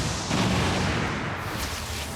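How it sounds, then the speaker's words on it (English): Missile barrage ability fired in XCOM 2, heard as a dense, roaring wash of rumbling blasts that holds steady and loud for about two seconds with no voices over it. "Oh, right, missile barrage."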